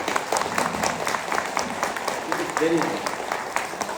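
An audience at a yoga lecture claps steadily, a dense, even patter of applause from many hands that carries on without pause, heard from a moderate distance.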